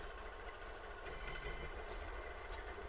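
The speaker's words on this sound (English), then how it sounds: "See, the engine is struggling to stay on." Faulty Hyundai Sonata engine idling rough and struggling to keep running, a low uneven rumble with a faint knocking quality, heard close and steady with no talk.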